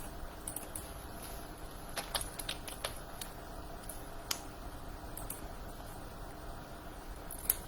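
Rapid, irregular clicks of typing on a computer keyboard, light and close, with scattered sharper keystrokes over a steady low room hiss and no voices.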